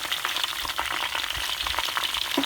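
Banana slices frying in vigorously boiling oil, a dense steady sizzle and crackle of bubbling fat, close and continuous, with no talking.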